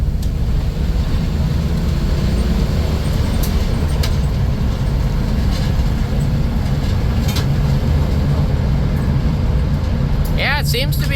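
A 1991 Dodge Grand Caravan minivan with a newly installed transmission drives along, its loud steady road and engine rumble filling the cabin throughout, with a few faint rattles and a brief squeak near the end.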